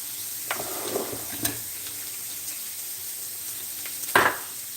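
Two pounds of ground beef sizzle in a large 14-inch cast iron skillet, a steady close frying hiss with a few scrapes and clinks, the loudest one near the end.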